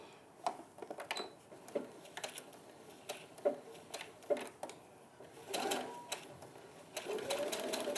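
A sewing machine stitches down an appliqué block in quick clattering bursts with short pauses between runs, up close and with no talking.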